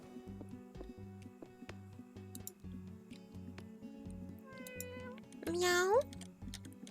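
A cat meows in a cat café management video game, a single drawn-out rising meow near the end over looping, plucked background game music.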